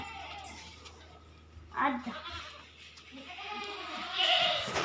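Sheep and goats bleat on a village farm while being washed, with a couple of loud nearby bleats rising over a quieter background as people talk.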